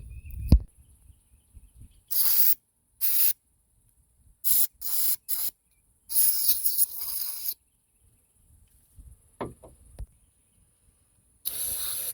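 Carburetor cleaner is sprayed through the ports of a Holley 1850 four-barrel carburetor body, heard as about eight sharp, loud hissing bursts of varying length separated by near-silent gaps.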